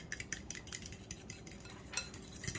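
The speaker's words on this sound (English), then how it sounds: "I'm going to kind of keep whisking" A whisk beats cookie batter with vanilla in a bowl, making quick, faint, repeated clinking and scraping strokes at a steady rhythm.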